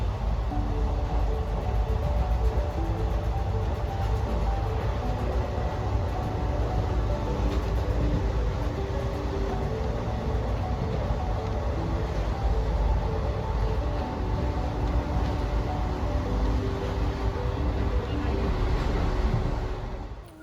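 A steady, loud rumble and rattle fills the interior of a moving passenger train, with continuous low clatter from the wheels and carriage throughout.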